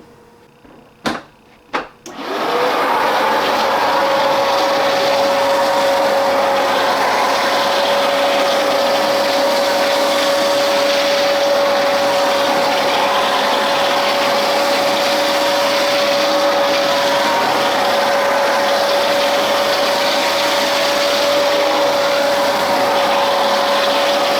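A couple of clicks, then a vacuum cleaner whirs to life and runs loudly and steadily with a constant high-pitched whine.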